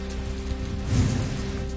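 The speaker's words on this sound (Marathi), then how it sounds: "धाराशिवमध्ये जोरदार पाऊस." Heavy pre-monsoon rain falls in Dharashiv as a steady, dense hiss of rain on surfaces, with a faint hum running under it.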